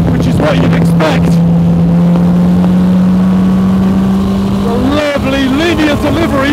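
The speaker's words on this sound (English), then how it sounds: "God, the response of that engine though." A Spartan track car with a Lamborghini-type engine drones steadily under acceleration, a rising tone that holds from inside the cabin before revving harder, while someone talks over it throughout.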